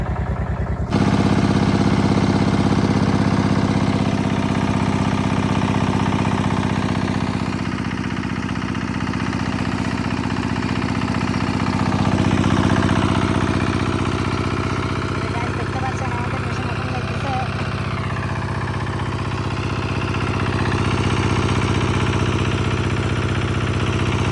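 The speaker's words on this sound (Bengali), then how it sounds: "এখানে যে স্টার্ট দিয়ে ফেলাইছে মেশিন" A work-site machine's diesel engine starts abruptly and then runs at a steady, loud, throbbing idle with continuous vibration, while someone talks over it intermittently.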